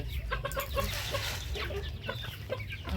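Two small chickens clucking in short, irregular bursts over a steady low rumble of background noise, fairly close.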